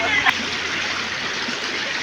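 River water rushes in a steady, broad hiss where people are bathing, close and continuous, with a brief voice near the start.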